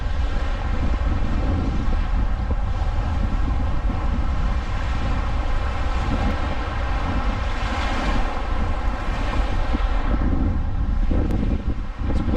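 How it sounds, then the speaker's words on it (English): Wind and rain lash the outside of a van during a thunderstorm, a continuous loud broadband rush with a steady low rumble that barely changes across the stretch and has no talking. "It's windy and rainy and crappy today"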